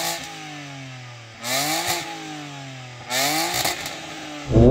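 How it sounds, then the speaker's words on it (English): A 750 hp BMW M3 idles loudly and is revved hard twice. Each rev climbs and then drops back, with the crackle of the exhaust heard close up and no voices over it. "you want to win the first challenge, Jenny, by revving up that BMW?"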